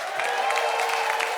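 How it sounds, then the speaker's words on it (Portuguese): Audience at a carnival-themed stage show applauds the band, a sustained round of clapping with a few faint cheers, fairly close and without speech. "Vamos aplaudir nossa banda"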